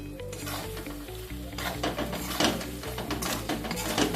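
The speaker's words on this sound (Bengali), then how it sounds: "পোস্তটা দিয়ে আমি একটু নাড়াচাড়া করে নেব।" Poppy seed paste being stirred with paneer in a pan, with a steady sizzle and repeated scraping and clinking of the spatula against the metal, close up and without speech.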